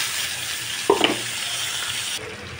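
Tomato dropped into a hot frying pan with cooking fish brings a brief splash and crackle over a steady, close background sizzle that carries on after the small burst.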